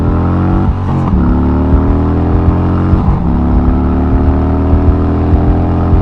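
Harley-Davidson Road Glide with a Milwaukee-Eight (M8) engine accelerating hard in first gear, a loud, steady, deep V-twin roar that stays close and continuous for several seconds without any talking.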